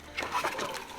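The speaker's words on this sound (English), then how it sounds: "I'm going to see if I can get him into the water so you can really see how a water monitor is" A water monitor lizard splashes and sloshes into water at close range in a brief burst of splatter, with outdoor background noise around it.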